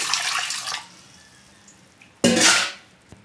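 Water poured into a pot of dal while making vegetable sambar: a broadband pouring splash at the start, a pause, then a second louder, brief gush of water with a small clink at the end.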